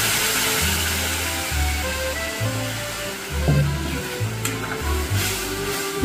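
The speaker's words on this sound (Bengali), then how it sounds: "এবার আমি জল দিয়ে দিচ্ছি।" Water goes into a hot pan of frying egg omelette curry masala, giving a steady loud sizzle with stirring and scraping noises running throughout.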